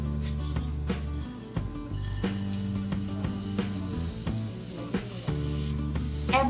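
Roti batter frying on a hot pan, close sizzling with repeated clinks and scrapes of a spoon spreading it thin, steady and moderately loud with no voices.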